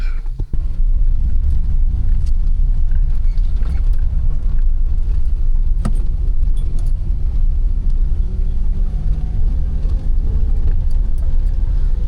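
Car interior on a rough, off-road-like home road in Coorg, a loud continuous engine and tyre rumble with occasional knocks and rattles, no voices.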